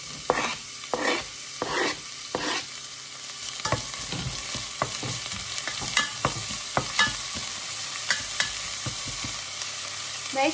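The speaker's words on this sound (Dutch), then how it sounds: "Ik ga alvast de uien in de pan doen." Onions and garlic sizzle steadily in a hot pan, a constant frying hiss broken by repeated scraping stirs, close and fairly loud with no talking.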